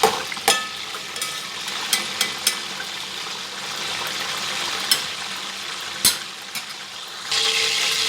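Stuffed capsicums fry lightly in oil in a pan with a constant soft sizzle, broken by occasional sharp pops and spatters, close and alone with no voices.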